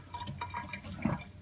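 Water dripping and trickling from freshly washed lamb meat sitting in a kitchen strainer, a brief, quiet patter of drops with one slightly louder splash near the end.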